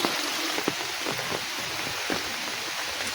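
Steady rain pours down in a rural village, a dense even hiss of drops on surfaces with occasional louder nearby splashes, continuous throughout with no voices.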